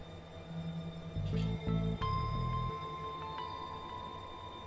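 A steady mechanical train drone with chugging low pulses and a sustained whistle-like tone rings out in the video game The Darkside Detective, alone, with no voices.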